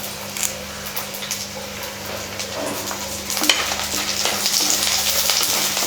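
Garlic, red chilies and curry leaves fry in a pan for idli podi, a dense steady sizzle with crackles and occasional stirring scrapes, growing a little louder toward the end.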